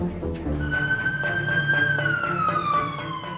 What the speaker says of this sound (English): An ambulance is rushing in a 77-year-old man.